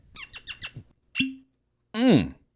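A cork squeaks and then pops out of an Ardbeg whisky bottle in one short burst, close and fairly loud, with voices heard before and after.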